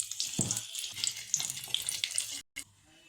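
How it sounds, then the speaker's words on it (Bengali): Nigella seeds and a dried chili dropped into hot oil left from frying koi fish crackle and sizzle briskly up close, then the sound cuts off abruptly near the end. "আমি মাছ ভাজার তেলের মধ্যেই একটু কালো জিরা আর একটা শুকনো লঙ্কা দিয়ে দেবো"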